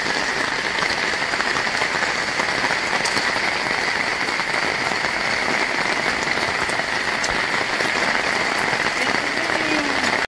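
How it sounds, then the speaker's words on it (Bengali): Heavy rain pours down steadily and loudly, a dense, even hiss of drops hitting surfaces nearby that continues unbroken throughout with no talking. "দেখো এত গেল সঙ্গে সঙ্গে প্রচুর বৃষ্টি হচ্ছে"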